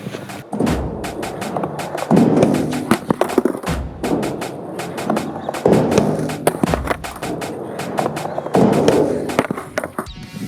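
Skateboard wheels roll and rumble across the concrete spine of a new skate park, with repeated loud bursts of rolling roar broken by sharp clacks and thuds of landings and transitions, close-up and with no talk.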